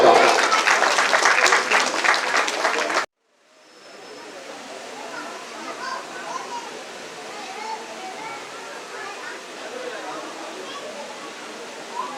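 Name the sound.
audience applause at ceremony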